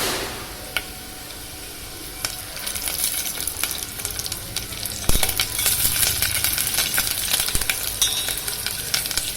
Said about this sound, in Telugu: ఉల్లిపాయ ముక్కలు వేసి గోల్డెన్ రంగులో వచ్చే మాత్ర వేయించుకోవాలి